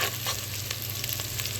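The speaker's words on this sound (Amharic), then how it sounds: "አሁን እንግዲህ ውድ ቤተሰቦች ሽንኩርታችንን እያበሰልኩ ነው።" Onions fry in a pan with a dense, steady sizzle that stays close and even throughout. Occasional soft stirring scrapes break through the constant hiss, and there is no talking.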